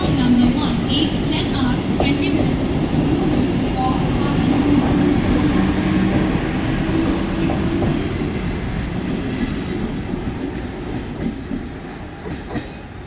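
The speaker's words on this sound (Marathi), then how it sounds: "local arrive on platform number 1" A Mumbai local train rolls in at platform 1 of a busy station with a loud, steady rumble and rhythmic clatter of wheels on rail joints. The sound eases slightly as the train slows, and people talk faintly underneath.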